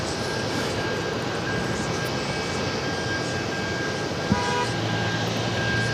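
Norse Boeing 787-9 Dreamliner taking off at JFK, a sustained broadband jet roar held at an even level, with one brief thump partway through.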